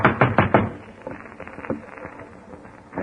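A door knocked on in a 1940s old-time radio mystery drama: a firm series of four sharp raps, then a lighter scatter of quieter taps, with no talking over them.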